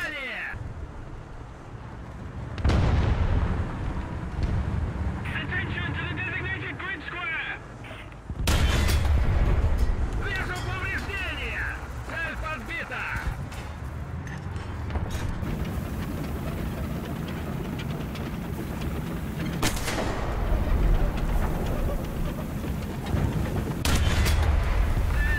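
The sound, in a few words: tank cannon shots and hits in the video game War Thunder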